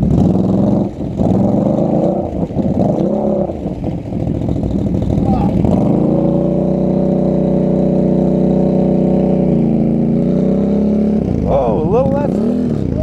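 A Polaris ATV engine revs hard and holds a high, strained drone as its wheels spin for grip, dropping and rising again near the end, with someone talking over it close by.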